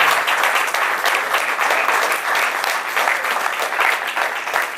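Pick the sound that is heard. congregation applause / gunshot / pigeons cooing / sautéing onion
congregation applause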